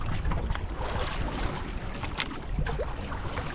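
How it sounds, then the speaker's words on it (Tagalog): Big waves slapping and rushing around a fishing boat at sea, a steady windy churn of water with gusts buffeting the microphone, fairly faint and with no talking. "kalalaki ng alon"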